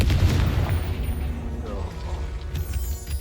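A Confringo fire spell in the Hogwarts Legacy video game bursts with a heavy, booming explosion right at the start, followed by a rumbling decay and scattered mechanical game effects.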